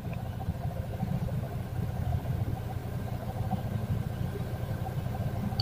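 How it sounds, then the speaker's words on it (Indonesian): A Toyota Fortuner diesel engine idles with a rough noise near the engine bay, a steady low rumble with a continuous fine clatter running evenly throughout. "mengeluhkan bunyi kasar di area mesin"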